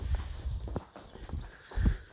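Horse hooves thudding on the ground during free lunging of a new horse, a steady clip-clop of walking steps, fairly close with soft uneven rhythm.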